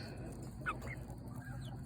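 Hens feeding on scattered pinto beans give a few soft, low clucks over a steady farmyard background, with one brief clearer cluck standing out midway.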